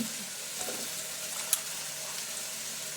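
Washed ridge gourd pieces go into a hot pan and set off a steady, bright sizzle with a sharp crackle partway through, continuous and close with no talk.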